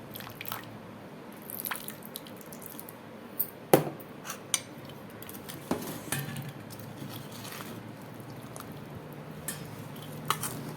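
Mutton pickle being mixed in a bowl after lemon juice and oil go in, with soft wet squishing and scattered clinks of a spoon against the vessel, close and fairly quiet, no talking.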